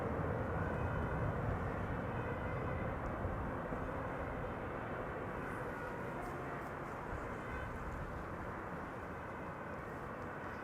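An airplane arriving at Amsterdam Schiphol Airport roars overhead, a loud, broad, steady rumble that holds for several seconds and eases off only slightly.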